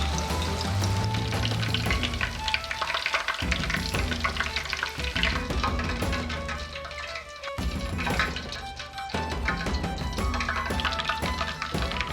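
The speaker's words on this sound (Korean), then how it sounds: "양념이 된 고기에 튀김옷을 입히고 튀겨주시면 끝이에요" Oil crackles and sizzles loudly as battered chicken deep-fries, a dense continuous spatter with occasional bursts and shifts in intensity.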